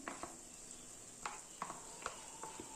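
Garlic paste stirred into hilsa masala frying in a pan, with a steady sizzle and several light scraping stir strokes at irregular intervals, close and fairly quiet.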